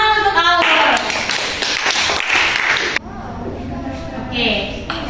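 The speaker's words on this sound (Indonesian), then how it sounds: "Oke, tepuk tangan untuk Aul." A classroom of children claps for a student, a burst of scattered hand claps that fades out, with a teacher's voice and children's chatter over and around it.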